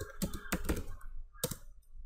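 A few sharp keystrokes on a computer keyboard entering a password command, spaced in short bursts with a pause before a final pair of taps, close and fairly loud with no talking.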